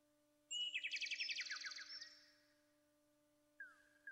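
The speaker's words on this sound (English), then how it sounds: "Whereas here, you just hear the chirping of birds." Birds chirp in a rapid, trilling burst of bright tweets in the King's Quest II video game, followed by a brief pause and a short, thin whistle-like call over a steady low hum.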